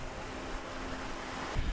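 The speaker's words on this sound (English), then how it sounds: "it's a bit windy again" Wind rushes steadily against the microphone in a broad, breathy roar on a sandy beach with a dead forest, with a low rumble and a faint thump near the end.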